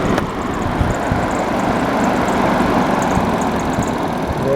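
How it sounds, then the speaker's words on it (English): DC box fan set in a window runs with a steady, loud whooshing hum and low motor drone, constant throughout with no voices. "It also go down to nice and quiet. Well, as quiet as this fan's going to get."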